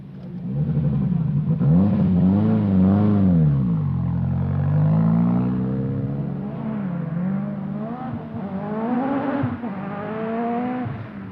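A Ford rally car at the 1985 Lombard RAC Rally revs hard and close, its engine note climbing and falling through repeated gear changes for several seconds, loud with no talk over it.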